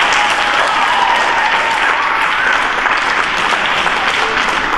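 Steady audience applause at a youth anti-racism event following a performance, many hands clapping in a dense, even roar that holds at the same level throughout.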